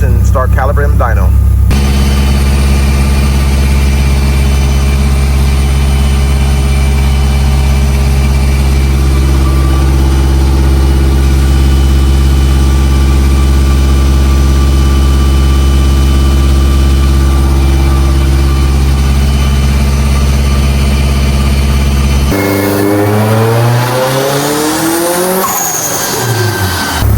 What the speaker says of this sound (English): So let's see how this car drives and start calibrating the dyno.